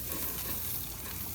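Sausages sizzle in a pan, giving a steady, close crackling hiss that runs alone and unbroken without any voices.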